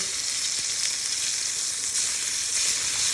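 Steaks sizzling in a hot pan, a loud continuous bright hiss and crackle of fat, close up with no voices; the flip itself is not distinct within the frying.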